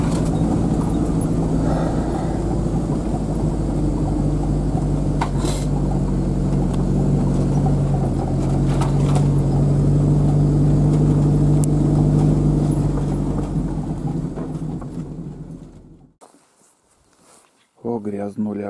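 A car drives along a rough forest road toward a hunting cabin, its engine and tyres rumbling steadily and loudly for most of the stretch before the noise drops away as the vehicle stops, followed by faint handling sounds.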